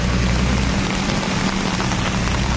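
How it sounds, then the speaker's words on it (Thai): Heavy rain pours down steadily and loudly in an unbroken broadband hiss, with no voices over the downpour. "ฝนตกหนักนะครับนี่ยิ่งหนักไปเรื่อยๆนะครับ"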